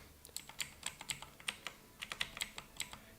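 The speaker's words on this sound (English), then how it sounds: "my keyboard, I know, is quite loud. These razor switches are not very quiet." A computer keyboard with Razer switches typing in a steady run of sharp, clacky keystrokes, about a dozen presses in irregular rhythm, close to the microphone with nothing else heard.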